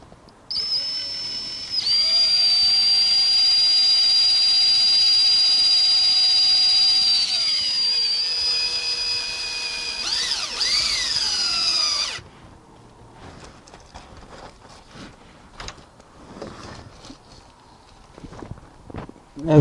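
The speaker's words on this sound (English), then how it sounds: "I can drill a hole in it and then pull it out" A power drill bores into the gear selector oil seal of an Austin Mini, a loud, close, high whine held for about ten seconds with pitch dips under load. Then it stops, followed by faint clinks and handling.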